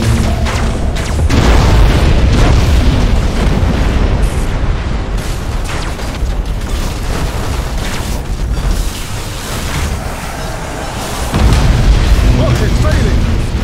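Warship gunnery in Battlefleet Gothic: Armada 2 produces a sustained roar of heavy booms and explosions, loud and dense throughout, with a short lull before a final surge of blasts.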